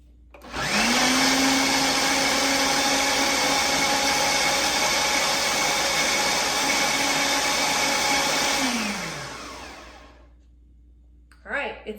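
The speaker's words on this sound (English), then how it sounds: "we're gonna do it in the blender until it's happy." A blender whirs steadily for about eight seconds, blending cake batter for a caramel apple cake, its motor pitch sliding down as it stops, followed by a brief clatter.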